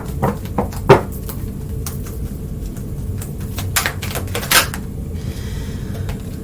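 Tarot cards are shuffled by hand: a series of sharp taps and clacks, some close and crisp, scattered irregularly across a quiet room background.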